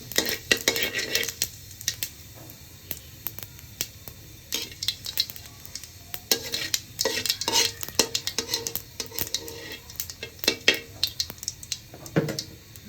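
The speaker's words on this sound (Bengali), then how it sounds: "এই মাছ ভাজা তেলের মধ্যেই অল্প কটা জিরে ফোড়ন দিব।" Cumin seeds crackling in leftover fish-frying oil in a home kitchen, with scattered sharp pops and sizzling bursts, intermittent stirring and utensil clinks against the pan, close and moderately loud, no talking.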